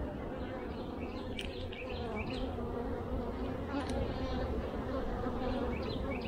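Honeybees swarm across the opened combs of a hive under inspection, a dense, steady buzz filling the whole stretch with scattered brighter whines of individual bees passing close.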